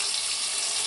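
A tap runs as lard soap is rinsed off hands at a sink, a steady close splashing rush of water throughout.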